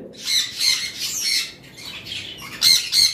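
Sun conures, green cheek conures and cockatiels squawk in repeated loud, shrill bursts, a dense flock of overlapping harsh calls close by, with the loudest cries near the end and no talking.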